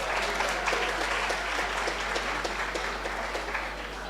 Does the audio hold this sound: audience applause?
yes